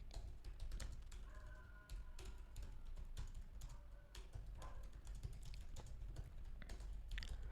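Rapid, steady keystrokes on a computer keyboard as an email subject line is typed, faint but continuous light tapping with no voices.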